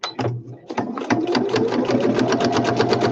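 A sewing machine stitches through paper journal ephemera with a woodland theme, starting in short bursts and then running in a fast, steady mechanical rattle, close and loud.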